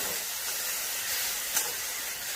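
Moth beans sautéing in a pan over high gas make a steady, dense sizzling hiss that holds evenly throughout, with one brief sharper spike partway through.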